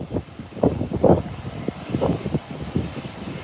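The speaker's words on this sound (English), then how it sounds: "An American airline has now hit the runway." An American Airlines Airbus A321 airliner touches down on the runway, its engines giving a distant rumbling roar with uneven surges, no voices.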